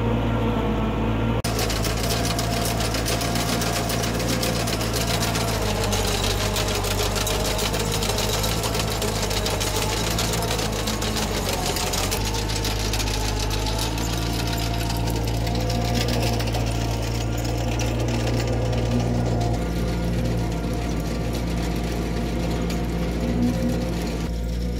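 A tractor-driven feed mixer wagon runs steadily, its engine droning alongside a dense mechanical churning and rattling as the mixer turns and distributes feed, loud and continuous with no voices.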